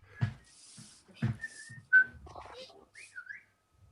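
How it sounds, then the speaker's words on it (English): A person whistles a short, halting tune in clear, bright notes, with brief pauses and a few faint breathy sounds between phrases. "He's whistling something."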